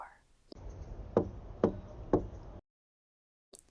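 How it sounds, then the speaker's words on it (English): Three firm, evenly spaced knocks on a wooden cottage door, close by, followed by silence and a brief faint noise at the end, in an ASMR storytelling setting. "You knock on the door."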